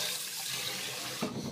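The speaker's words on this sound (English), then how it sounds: "let some water out" A bathroom tap runs while a razor is rinsed under the stream, a steady close splashing rush of water with a brief clatter near the end, no voices.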